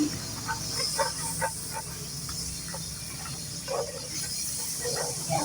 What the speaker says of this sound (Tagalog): Minelt lang natin yung ating margarine.